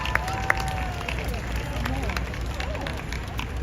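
A crowd claps at an outdoor Open Streets live music event in New York City, with a steady spread of applause mixed with chatter and street noise.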